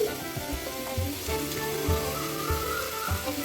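Sliced onions sauté in a hot pan, a dense steady sizzle with soft irregular clicks and stirring scrapes, close and fairly loud with no voice over it.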